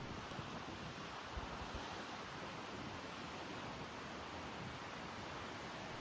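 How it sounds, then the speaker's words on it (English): Ocean surf washes in a continuous, even roar, faint and broadband with a breezy hiss, no distinct breaks or voices standing out. "The sound of the waves begin to soften into memory"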